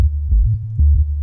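A filtered, automated synth bass line from a remix throbs in a few deep, rounded pulses, loud and alone with no voices.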